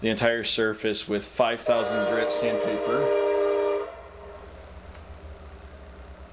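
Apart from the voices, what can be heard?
train passing on nearby train tracks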